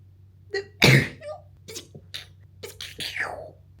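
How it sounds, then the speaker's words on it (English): A sharp, forceful sneeze bursts out close by, surrounded by soft breathy and whispery mouth sounds and small clicks. "I thought I was gonna sneeze."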